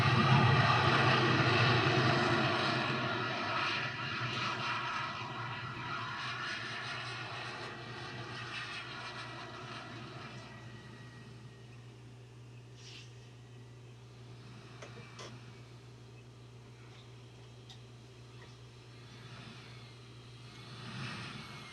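A plane's engine in Phoenix Flight Simulator during landing, a steady droning hum that starts loud and slowly fades lower, with a few faint clicks near the end and no talk.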